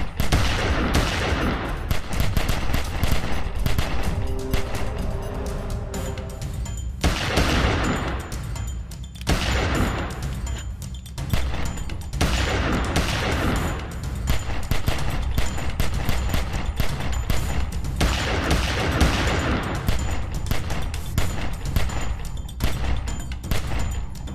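Gunfire sound effects from a comic book audio drama: dense, loud rapid-fire volleys and booming bursts with a few brief lulls, lasting throughout.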